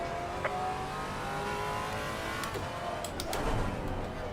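A GT4 race car engine in Assetto Corsa Competizione, racing at Laguna Seca, drones steadily through shifting revs, with a passing car audible and a short burst of louder noise near the end.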